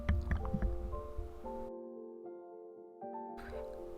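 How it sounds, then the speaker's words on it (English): Salt water brine is poured into a jar of sliced turnips for fermenting, giving close, gurgling, dripping splashes that stop abruptly. A quiet pause follows, then a brief faint sound. "Next, I'm going to add the brine, which is the salt water mixture."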